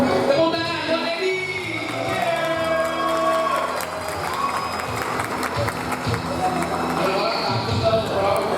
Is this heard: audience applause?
yes